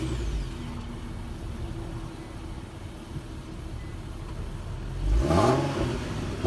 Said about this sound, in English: You have our twin outlet exhaust.